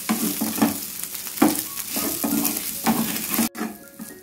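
Minced chicken and egg stir-fried in a pan for chicken podimas, a steady sizzle broken by a string of quick spatula scrapes and stirs against the pan, close and clear with no speech.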